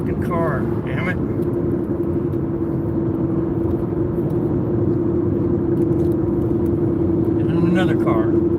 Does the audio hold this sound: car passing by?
yes